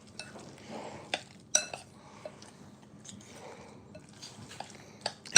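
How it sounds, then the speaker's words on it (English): Guacamole with cilantro being stirred in a bowl: a spoon scrapes and knocks against the sides, with several sharp clinks over soft, continuous mixing. Nobody speaks. "Okay, stir it up real well."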